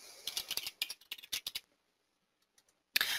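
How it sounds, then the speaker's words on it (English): Someone types on a computer keyboard in quick bursts of close, crisp key clicks, a pause of near silence, then another short flurry of keystrokes. "and then typing in names."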